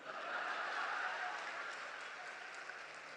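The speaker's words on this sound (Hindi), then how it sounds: "ये वही लोग ताली बजा रहे जिन्होंने बर्तन मांजे हैं।" An audience at a comedy show at the Kanpur Dehat Mahotsav applauds in a dense, steady wash of clapping that swells early and fades slightly, heard faintly and at some distance.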